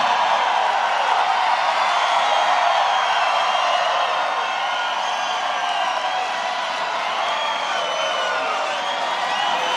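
A large crowd at a presidential victory rally in Des Moines, Iowa cheers and roars continuously, a loud, sustained wall of voices with whoops rising above it throughout.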